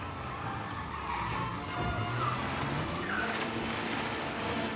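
Tires skid and squeal under a rumbling car engine in a video game as the car slides while parking, a continuous close, gritty roar with brief squeaks rising over it.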